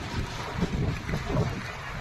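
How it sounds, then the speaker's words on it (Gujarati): A fierce evening windstorm blusters steadily, a dense broadband rush with slight swells, buffeting the microphone. "વાવાઝોડું બીજું કશું નહીં"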